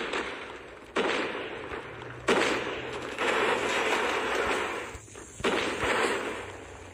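In Call of Duty Mobile gameplay, a frag grenade and a flashbang go off in sharp bursts, each followed by a roaring noisy wash, several loud blasts within a few seconds.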